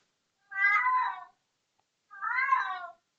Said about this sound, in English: My cat is screaming behind there.